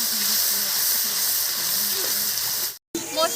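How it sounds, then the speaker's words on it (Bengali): Spice paste of dried chilli, tomato, salt and turmeric cooking in a pan, giving a steady broadband hiss and sizzle with a faint voice beneath, cut by a brief silence near the end. "এবার কিন্তু এই মশলাটা ভালো করে আমি কষে নেব।"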